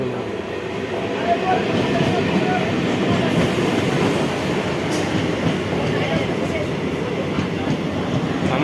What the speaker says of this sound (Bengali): আমাদের ট্রেন আসছে ওই দেখুন